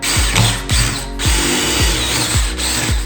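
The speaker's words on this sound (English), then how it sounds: "let's make a guide hole with just a drill bit, big enough for the blade to get through." A drill bit boring a guide hole through wood, the motor whirring in repeated short bursts, each starting with a low thump, loud and close.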